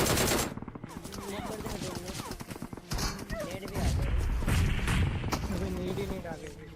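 Bursts of rapid gunfire from a BGMI battle royale match, loud and dense, with shots rattling over a voice talking excitedly throughout.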